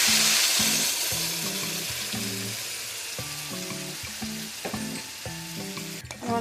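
Ground beef and potatoes sizzle in a hot skillet while a utensil scrapes and stirs them, steady frying hiss overlaid with repeated close knocks and clinks against the pan.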